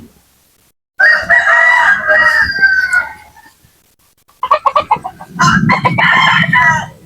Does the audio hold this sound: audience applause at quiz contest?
no